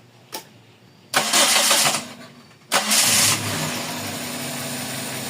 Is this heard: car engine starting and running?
yes